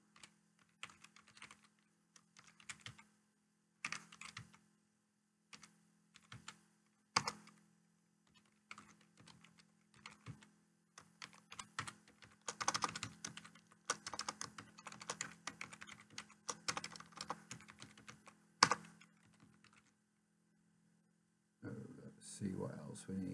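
Quiet, close typing on a computer keyboard, with irregular clusters of key clicks and pauses between them, while a person speaks in the background.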